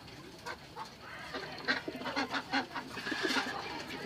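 Paired pigeons in a loft coo and flutter faintly, soft irregular bird calls close by against a quiet background.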